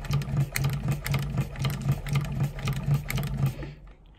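A chainstitch sewing machine runs a moss stitch on a jersey, a close rhythmic mechanical whir with regular pulsing beats for several seconds before stopping abruptly.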